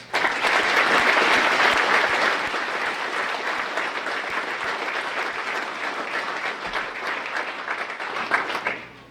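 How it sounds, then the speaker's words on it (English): A crowd at a Boise State ROTC commissioning ceremony in spring 2016 gives a round of applause for the new officers' families. The dense, sustained clapping fills the room, then tapers off and stops. "Please, let's give you a round of applause."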